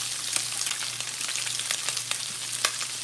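Chopped onions sizzle and fry for Chamoru-style Spam fried rice, a steady close crackle with scattered sharper pops and light stirring scrapes, no voices.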